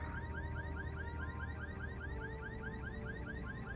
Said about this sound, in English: It just occurred to me that this was had the blinking light, which means it's got the car alarm.